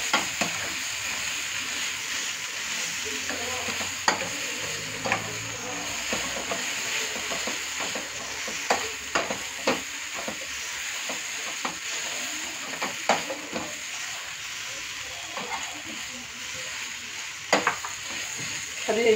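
Onions fry slowly in a pan for mango rice, a steady low sizzle with soft scattered crackles and a few sharper pops of stirring, continuous and close throughout.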